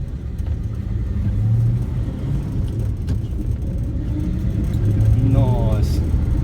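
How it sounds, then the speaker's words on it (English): A Valiant drifter ute drives along with a steady, loud low engine rumble and road noise filling the cabin, rising slightly toward the end, while people talk over it. "we're lucky enough to take the drifter for a spin"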